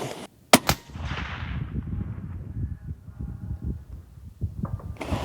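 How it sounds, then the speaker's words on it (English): A rifle fires a single long-range shot at a 1,000-yard target, a sharp loud crack near the start followed by a rolling decay and echo, with a faint distant report or impact sound near the end. "So shot number 3 here. Should have the right wind call. Go ahead and shoot."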